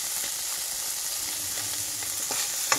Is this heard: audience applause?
no